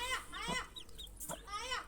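Hen clucking in short bursts with a chick-like peep, close by, mixed with soft background voices.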